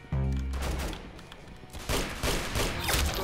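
Rapid bursts of gunfire in the Roblox shooter Arsenal, a dense, loud volley right at the start that thins briefly and then swells into another round of shots, with no talking.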